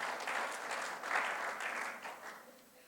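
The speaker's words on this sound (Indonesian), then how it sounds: "Berikan tepuk tangan, haleluya." A church congregation at a Sunday worship service claps briefly, a soft, fairly distant patter of applause that fades over about three seconds.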